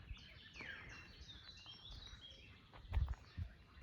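Birds chirp and sing faintly at a fishpond complex outdoors in fine weather, scattered calls at a distance with a few low thumps near the end.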